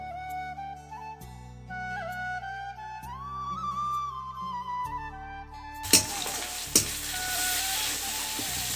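Onion, garlic and ginger paste for mutton curry starts sizzling loudly in a pan after a stretch of background music, with a couple of sharp stirring clanks over the steady hiss.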